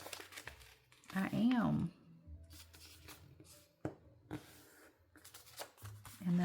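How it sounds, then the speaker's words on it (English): A paper strip is folded into thirds for a craft journal, giving soft crinkling and rustling, loudest in one brief burst, with a person talking throughout. "I'm just going to fold it in 3s"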